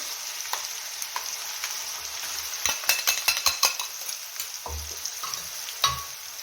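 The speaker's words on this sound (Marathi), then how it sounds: "सर्व फिरवून घ्यायचं आणि छान असा ठेसा फ्राय करून घ्यायचा" Coarse green chili and garlic thecha with curry leaves fries in a pan, a steady close sizzle broken by clusters of metallic spatula clinks and stirring scrapes, with no talk.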